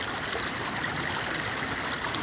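A mountain stream rushes beside a walking path in Nepal, a steady, loud broadband flow of water close by, unbroken and without voices.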